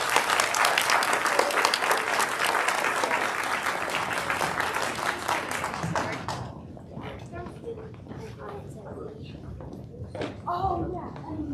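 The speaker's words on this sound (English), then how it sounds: "Let's have a round of applause for these players." Crowd applause rings out for young spelling bee contestants at a county competition, dense and steady for about six seconds before thinning into scattered claps and murmuring voices.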